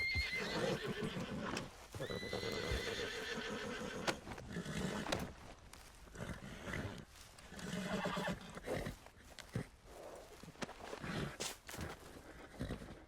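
In Red Dead Redemption 2, a horse neighs and whinnies repeatedly amid clip-clopping hooves and scuffling steps, close and fairly quiet, with bursts of activity separated by short pauses.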